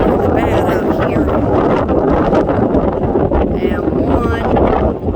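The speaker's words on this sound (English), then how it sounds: "the wind's blowing really bad out here" Strong wind blowing outdoors in open country, loud continuous buffeting and roar across the microphone, with a voice talking through it.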